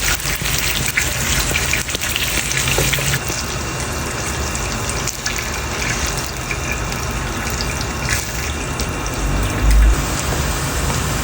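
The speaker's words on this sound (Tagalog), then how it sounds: "Pinirito ko muna yung tuna." Tuna frying in a pan for a home-style sautéed dish gives a loud, steady, dense hiss and crackle that carries on evenly for the whole stretch with no voices.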